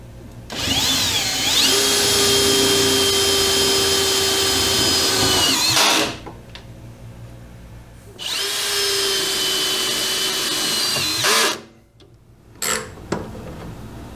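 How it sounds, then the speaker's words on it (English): A power drill drives self-tapping screws during the restoration of a Hardinge Cataract lathe. There are two long, loud bursts of steady motor whine, each ending as the screw seats, with brief clicks and handling noises between them. "These self-tapping screws are amazing."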